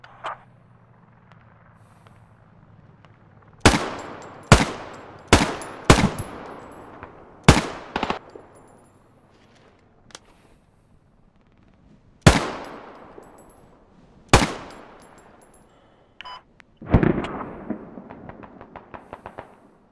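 Gunfire in a military shooting video game: sharp, loud single shots and short clusters ring out at irregular intervals with decaying echoes, ending in a rapid burst of automatic fire, with quiet background between them and no talking.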